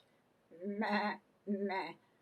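A goat bleats twice at close range, two loud wavering calls about a second apart, with quiet background between them.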